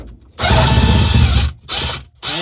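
A power tool whirs in close, loud bursts while backing a bolt out of a boat under restoration, with one long run followed by two shorter spurts.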